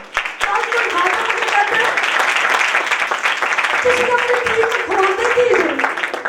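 Steady applause from a church congregation, dense clapping filling the whole stretch, with voices rising over it toward the end.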